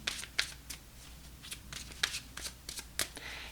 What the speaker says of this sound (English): I'm like shuffling your cards